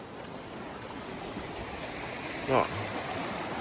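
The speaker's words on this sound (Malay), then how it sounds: "Air daripada gunung." Mountain stream water flowing near a traditional royal bathing place in Indonesia, a soft steady rushing wash with a brief louder splash or voice partway through, and a person speaking briefly.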